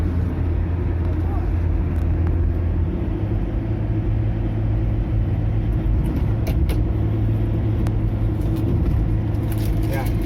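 Hyundai Trajet automatic climbing a highway incline at around 3200 rpm, a steady low engine drone and road rumble running throughout with little change, while someone talks over it.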